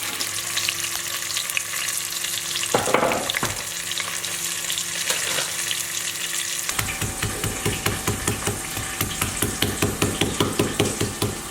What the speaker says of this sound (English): So you pounding that is just to release the flavour from the pepper?